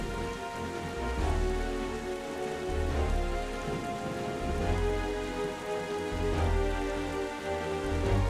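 Steady rain in The Legend of Zelda: The Wind Waker HD, a dense continuous patter of drops layered with low game music and occasional deeper swells, loud and unbroken throughout.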